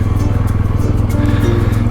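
A motorcycle engine running close by with a steady, pulsing rumble, loud and continuous for under two seconds, on a road trip in the Philippines.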